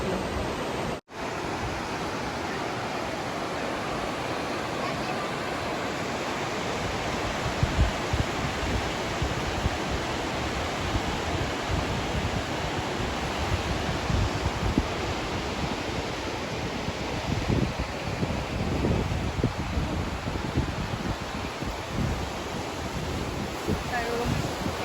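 A river in Bhutan rushes in a dense, constant roar of flowing water, loud and steady throughout with no pauses or other clear sounds.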